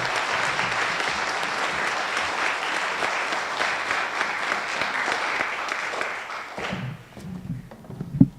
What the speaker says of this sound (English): And just a big round of applause for our students and our entire department.